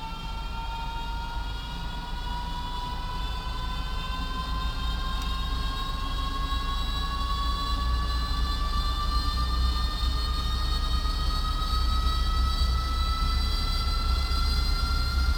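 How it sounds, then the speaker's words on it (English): A DC Designs AV-8B Harrier II jet engine in a flight simulator spools up on carrier start, a steady loud turbine roar with rising whine tones climbing in pitch throughout, no voices over it. "I'll just keep quiet now so you can hear the engine spooling up."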